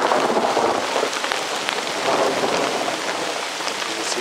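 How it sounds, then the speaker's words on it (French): Heavy rain drums steadily on a taut tarp close by at a night bushcraft camp, with a low thunder rumble rolling underneath the downpour. "le tonnerre gronde et la pluie a redoublé d'efforts"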